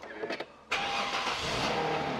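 A used Hyundai Genesis BH330 with about 293,000 km on it starts up. A brief crank catches at once, and the engine settles into a steady, full-sounding idle recorded close up.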